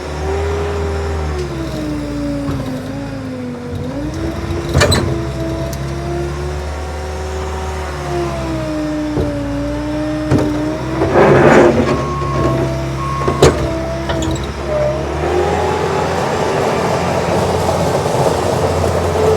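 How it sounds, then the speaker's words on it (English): A joystick-controlled machine with hand and foot throttles runs steadily, its engine note rising and falling as the revs change, with a few sharp clanks and knocks layered over the continuous drone. "I'm going to fire this machine up. We're going to run it around."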